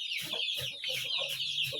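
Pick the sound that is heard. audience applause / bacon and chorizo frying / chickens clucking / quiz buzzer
chickens clucking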